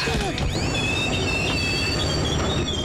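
A passenger train's wheels and brakes squeal loudly over a steady rumble after the emergency chain is pulled, with rising and falling metallic screeches as it slows.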